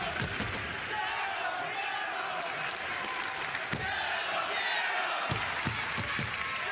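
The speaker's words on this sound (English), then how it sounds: "Crowd coming alive right now for the Lucha Brothers" Wrestling crowd cheering for the Lucha Brothers during a World Tag Team title match at Death Before Dishonor 2023, a continuous roar of applause with sharp ring slams and impacts punching through and a commentator talking over it.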